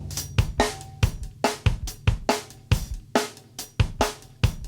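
A punchy drum groove with parallel compression, hard-hitting kick and snare and crashing cymbals, dense and compressed, playing a steady rhythmic pattern.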